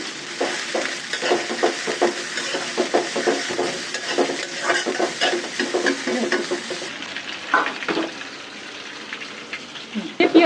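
Onion and garlic sizzle and fry in hot oil in a pan, being stirred, a steady crackling hiss with scraping stirs, loud and close, before greens are added; a voice talks over it.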